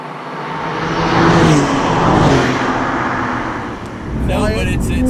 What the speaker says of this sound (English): Got that engined burble, right? They put the burble in it now.